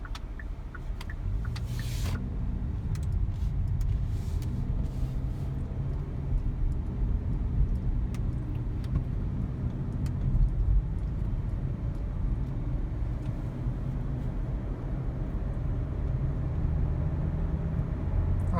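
Steady low road rumble and engine hum from inside a moving car, constant and unbroken, with a few faint clicks near the start and no talking.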